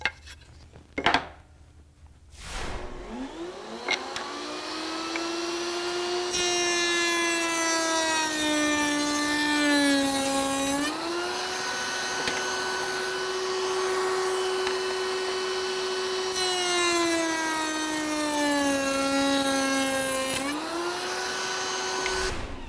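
A router-type cutter grooves wooden cabinet door pieces, spinning up to a loud, sustained whine that dips in pitch as the wood is fed through, twice in a row, after a few knocks of handling.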